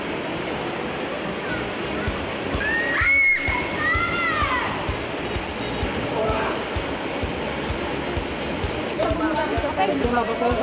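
A waterfall at a cave in Cagayan Valley, Philippines, roars as continuous rushing water throughout, with a voice speaking briefly over it.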